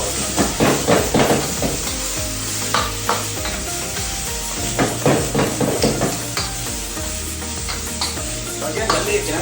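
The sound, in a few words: squid sizzling as it fries in the pan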